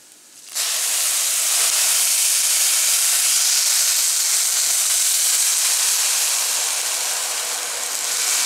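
Loud, steady steam hiss bursts suddenly from a stainless steel pressure cooker and keeps blasting without pause, close by.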